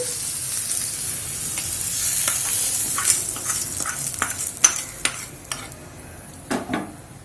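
A sautéed tempering for curd rice is tipped from the pan into cooked rice and stirred in: scraping spoon and utensil clinks, with a few sharp clatters and a soft sizzle, close and moderately loud, no voices.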